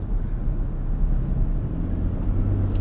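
A 2025 Toyota Tundra TRD Rally with a 3.4-liter twin-turbo V6 and 10-speed automatic is driven, giving a steady, low, fairly quiet engine and road rumble inside the cabin that holds even throughout, with no talking.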